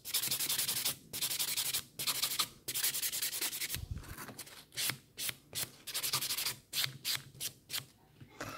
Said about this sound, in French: Je passe un coup de bloc ponce.